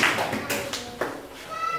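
A classroom of children gives a brief burst of applause, a short cluster of light claps over the room's background noise.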